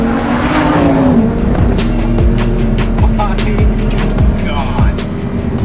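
Loud, close engine roar of a rear-wheel-drive 800 hp twin-turbo Lamborghini Huracán drifting, with a tire squeal early on and a rapid run of sharp gear or limiter pops repeating steadily over the sustained rumble.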